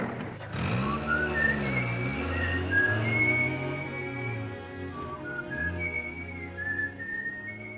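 People whistle a tune together in a 1944 wartime household kitchen, the melody steady and close for the whole passage, several wavering lines overlapping.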